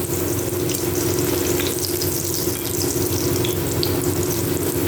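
Lentil fritters (bora) fry in oil, making a dense, loud, continuous bubbling sizzle heard up close with no voices over it.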